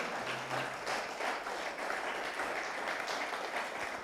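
A church congregation claps their hands together, a fairly soft, continuous patter of many hands heard from a distance without talk over it.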